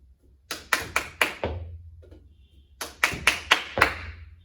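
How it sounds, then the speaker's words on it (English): Hands clap sharply in two quick bursts, four claps and then a pause before about five more, close and distinct during a home gym ball exercise challenge. "clapping your hand 3, 4 or 5 times"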